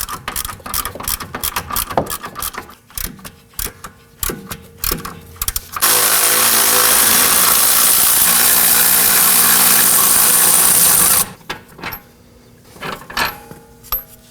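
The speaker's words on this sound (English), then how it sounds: "we just switch over to our ratchet to go ahead and loosen these up a little bit quicker" A ratchet loosens front lower control arm bolts on a 2018-2024 Toyota Camry: close clicking and clattering, then a loud continuous whirring run of about five seconds, followed by more scattered mechanical clicks.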